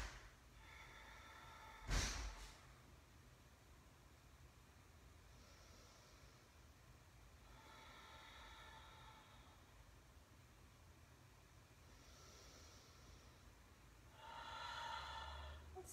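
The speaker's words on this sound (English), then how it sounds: "We're just going to pause here for a few rounds of breath." Slow, quiet breathing during a yoga practice, with soft drawn-out breaths repeating every few seconds against a faint background hiss, and one brief louder sniff or snort near the start.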